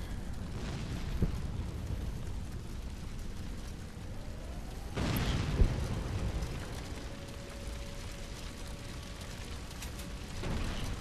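A grenade blows up in the World War II shooter Brothers In Arms: Hell's Highway. One sharp broadband blast comes midway, with a smaller burst near the end, over a low rumbling battlefield background.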